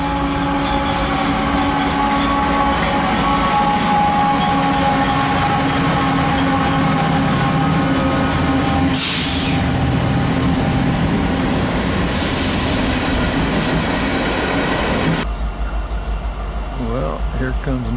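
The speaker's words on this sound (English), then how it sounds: "Another train idling up." A heavy freight train rolls in steadily with a continuous low rumble and rhythmic wheel clatter, loud and close, easing off near the end.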